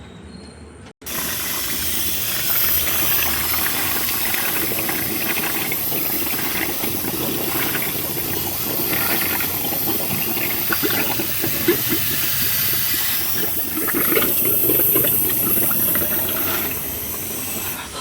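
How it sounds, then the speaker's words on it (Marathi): Compressed air blasts through the engine of a Hyundai Santro during a coolant service, forcing out water in a loud, continuous hissing rush that starts abruptly after a second and holds steady with slight surges. "हवा मारून सगळं इंजनमधलं पाणी हे काढून घ्यायचं आहे आपल्याला"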